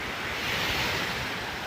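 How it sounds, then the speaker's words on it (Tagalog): Large ocean waves crash and surge onto a beach by a seaside resort after rough seas, a steady broadband roar with a swelling break midway, loud and close, with no voices. "Hindi kagaya ng mga nakaraang araw, ang lalaki ng mga alon."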